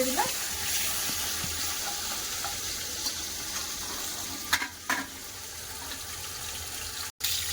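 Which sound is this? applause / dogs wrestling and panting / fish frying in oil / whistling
fish frying in oil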